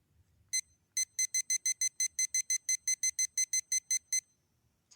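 A cell phone timer alarm goes off with a quick, steady run of bright electronic beeps, about sixteen evenly spaced pulses, close and clear over a quiet background before abruptly stopping.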